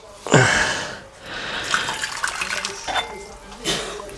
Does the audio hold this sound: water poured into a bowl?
yes